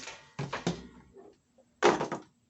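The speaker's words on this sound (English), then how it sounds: "Take all these drawers out." Wooden drawers are pulled out of a dresser at home, giving several close scraping slides and knocks in bursts separated by short pauses.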